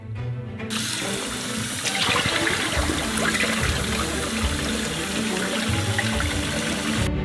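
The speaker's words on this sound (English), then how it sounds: "The rice needs to be thoroughly rinsed to get rid of the rice dust that appeared during production." Rice rinsed in a kitchen sink under a running tap, a steady loud rush of water splashing for several seconds, close and continuous with no talking.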